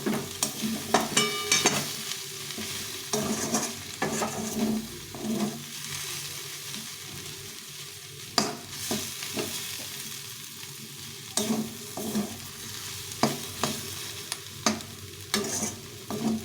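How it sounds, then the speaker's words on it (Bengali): Leafy greens (bete shak) being stirred and fried in mustard oil in a pan, a continuous close sizzle broken by repeated scraping strokes of the spoon, with no talking. "আর একটু নাড়াচাড়া করে নামিয়ে দিন"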